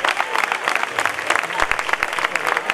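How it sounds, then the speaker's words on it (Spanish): A contest audience claps for a guitar accompanist at an awards ceremony, lively close applause with distinct individual claps and a speaking voice under it. "Un aplauso para Juanito Plazoleta."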